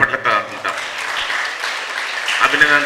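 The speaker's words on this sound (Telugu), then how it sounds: "టీజీ వెంకటేష్ గారికి కూడా ఒక్కసారి మనం చప్పట్లతో అందుకుంటాం" Audience applause at a Kurnool city sports event, a steady burst of clapping from a crowd lasting a few seconds, fairly loud and close.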